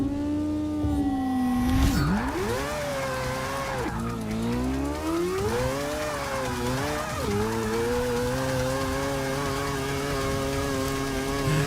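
Tires squealing on a 2014 Nissan Juke Nismo RS in the Forza 6 video game, a loud sustained wavering screech over engine drone, with pitch sweeping up and down for several seconds, close and continuous.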